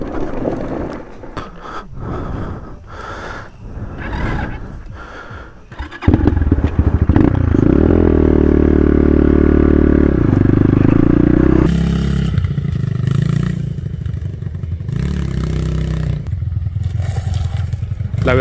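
A Factory AK47 250 motorcycle rides off-road over rocky ground, its engine droning loud and close with rising and falling revs, alongside clattering and scraping.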